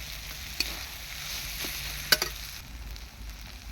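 Masala fries with chilli and turmeric powder in a pan, making a soft, steady close sizzle with a few sharp clinks and scrapes from stirring.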